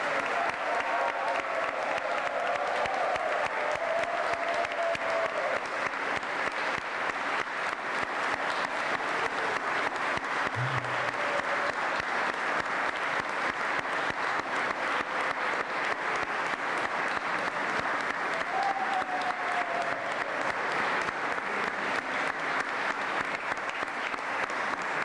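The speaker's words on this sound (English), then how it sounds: "I'd like to invite everyone to give a special round of applause to all our graduates here and online" Sustained applause fills a graduation ceremony hall for the graduates, a dense, even roar of many hands clapping that holds steady throughout without any talk.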